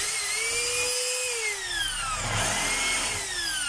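A DeWalt D25032 rotary hammer runs with a loud, continuous high-pitched whine up close, its pitch shifting slightly as it is tested.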